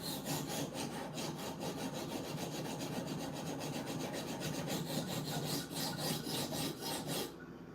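A knife blade being sanded by hand with sandpaper, rapid rhythmic rasping strokes in a steady back-and-forth cadence, close and continuous before stopping abruptly near the end.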